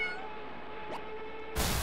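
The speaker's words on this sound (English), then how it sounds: "Take that thing out. Kitten." A kitten meows in the flight game Any Landing, a short run of tonal cries over a steady engine drone, followed by a sudden loud burst of noise.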